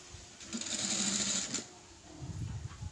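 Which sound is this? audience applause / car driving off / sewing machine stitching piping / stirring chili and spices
sewing machine stitching piping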